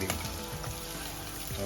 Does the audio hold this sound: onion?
yes